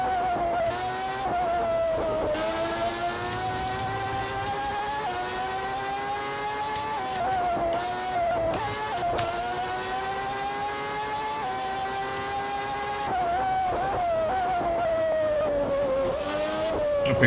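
A McLaren Formula One car engine in the racing game GP4, set in the 1989 season, screams at a high pitch without pause, climbing through the revs and dipping at each gear change, loud and close, with no talking.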